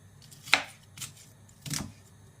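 A knife chopping Swiss chard into fairly large pieces for a sautéed chard dish, with three separate, crisp cuts spaced unevenly against a quiet kitchen background.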